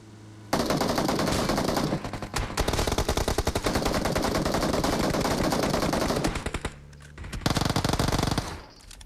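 Automatic gunfire in PUBG Mobile: loud, sustained rapid-fire bursts dominate nearly the whole stretch, pausing briefly before another close burst, with no talk heard over it.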